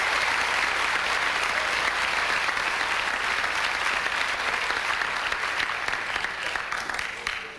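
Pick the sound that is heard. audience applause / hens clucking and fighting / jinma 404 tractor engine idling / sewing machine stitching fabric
audience applause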